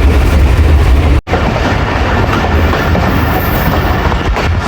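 Sandal Express passenger train running on rails in Pakistan, heard from on board as a loud, steady roar of rolling wheels and a rumbling carriage with a faint rhythmic clatter and one brief dip, and no talk.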